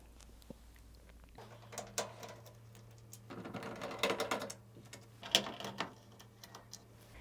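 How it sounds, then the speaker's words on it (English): Quiet metallic clicks and light ratcheting from a 7mm socket backing out the three nuts under the lip of a washing machine's top panel, faint and intermittent with a busier stretch in the middle. "So grab your 7mm socket and just remove the 3 nuts underneath this lip here, which hold the top panel in place."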